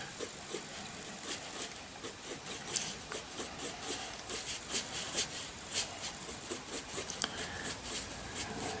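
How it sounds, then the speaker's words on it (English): A pencil and a stick blending brush work across paper while drawing rocks and grass, giving soft, rhythmic scratchy strokes and short flicks repeating about twice a second, close and quiet, with no talking. "And I'm going to blend it again with my stick, blending brush."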